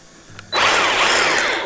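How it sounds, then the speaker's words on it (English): Small Craftsman electric chainsaw cutting brush on a trail, starting abruptly after a quiet moment and then running loud and steady for over a second with a high whining buzz, with no voices. "But this Craftsman little chainsaw, it puts in some work."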